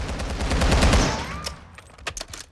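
A Scar Heavy rifle fires in Call of Duty Modern Warfare II, a loud rapid burst of shots for about a second, then a few scattered cracks and echoes.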